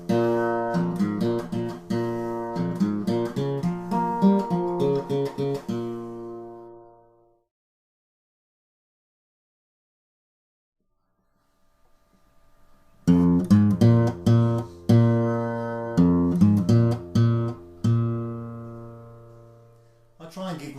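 A blues guitar break played in two phrases, with picked notes and ringing chords sounding close and loud, separated by several seconds of silence before the second phrase starts.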